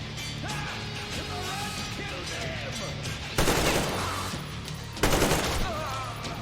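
Video game gunfire, bursts of rapid automatic shots that open loudly around the middle and again near the end, layered over game sounds and a voice talking.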